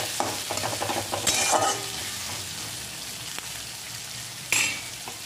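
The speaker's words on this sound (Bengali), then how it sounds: "পেঁয়াজটা এখানে হালকা ভেজে নিতে হবে, নাড়াচাড়া করে।" Chopped onions stir-fried in a pan give a steady close sizzle, broken by the scrape and clatter of a spatula stirring them around, with a couple of brief louder metallic knocks.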